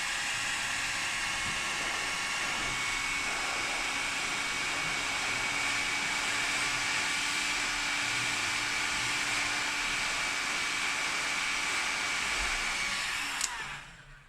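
A professional hot air heating machine blows steadily on an iPhone X display. It gives a loud, continuous whooshing hiss for about thirteen seconds, then cuts off abruptly near the end.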